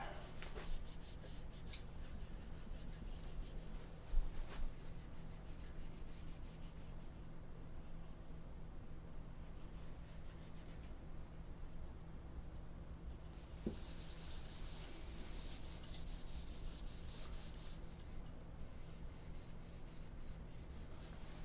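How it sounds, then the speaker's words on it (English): Whiteboard eraser rubbing across a board in a classroom, a steady soft scrubbing texture with brighter swipe bursts toward the end, faint and continuous against room hum. "Let's erase all that."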